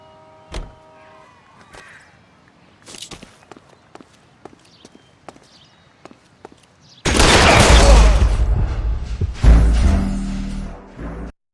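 Gunfire in the video game L.A. Noire, opening with sparse sharp clicks and footstep-like knocks, then a dense loud burst of rapid shots and crackling impacts in the last few seconds.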